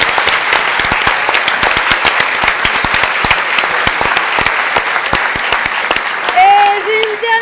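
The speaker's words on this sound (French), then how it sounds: "On peut applaudir très fort toute l'équipe des 72 heures de l'impro," Audience at a Paris improv festival applauding, dense sustained clapping that carries steadily for several seconds before a voice briefly comes in near the end.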